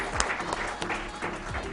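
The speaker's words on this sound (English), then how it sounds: "I think that the panel needs another hand of applause." Audience applause for a legal panel at an HIV law conference in Uganda, a steady wash of clapping with a few sharper claps standing out over roughly two seconds, moderately distant.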